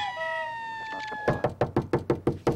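Sharp knocks on a door, about nine raps in a quick steady rhythm, fairly close and loud, following a fading high electronic tone.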